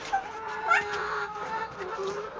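Chickens cluck and murmur nearby as fermented feed is set out for them, a short stretch of soft, uneven calls with a brief louder squawk.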